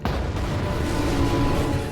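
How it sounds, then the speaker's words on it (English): A massive explosion from a toaster rigged as a remote fuse inside a house, a sustained loud broadband roar and rumble that fills the whole two seconds without easing. "30 seconds later, a massive explosion"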